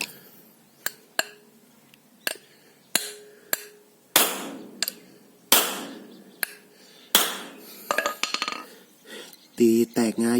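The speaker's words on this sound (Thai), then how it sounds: "เราใช้ค้อนนะครับ" Hammer blows on a large steel tank fitted with a German fire-extinguisher valve, a series of sharp metallic clanks spaced irregularly, then quicker clustered strikes near the end, close and fairly loud.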